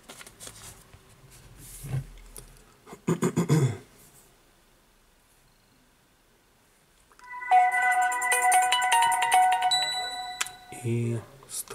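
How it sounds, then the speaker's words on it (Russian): A Samsung Galaxy A7 smartphone with a damaged SIM reader plays its startup chime after being switched on. Quiet handling and shuffling come first, then a bright, sustained tonal jingle rings out for several seconds before fading. "Включаем телефон."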